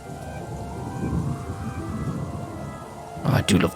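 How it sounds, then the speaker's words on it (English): Rainstorm in the Trails in the Sky video game, a steady wash of rain under a voice, then a loud rumbling thunder crack near the end. "Oh, I do love the sound of a good storm."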